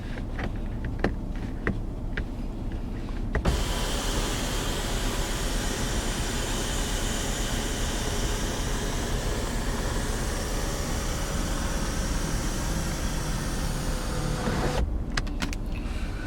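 A 2016 Ford F-150 power roof closing: a few clicks, then a steady, loud electric motor whir with rushing noise for about eleven seconds that stops abruptly, followed by a few soft clicks; no talk.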